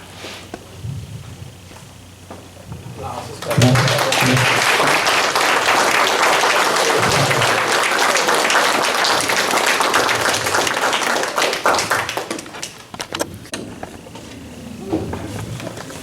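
After a few quiet seconds with faint voices, an audience at a church gathering breaks into loud, sustained applause that runs for about nine seconds before tapering off into scattered claps and murmuring.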